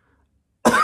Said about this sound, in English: I'm still getting over my cough